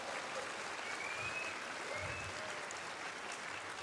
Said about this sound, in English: Can we hear another round of applause for our incredible panelists on stage here?